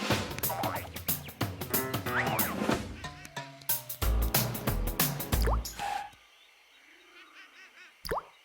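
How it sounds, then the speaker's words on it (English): Cartoon water drips and plops in quick, bouncy succession with musical tones, then a quieter stretch with a lone drip and a low, warbling sound near the end. "That's a very drip-droppy noise."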